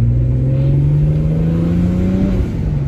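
A BMW with an N54 engine and an extreme twin-plate organic clutch revs hard under acceleration, a loud, close, steady rising engine drone for about three seconds with no talking.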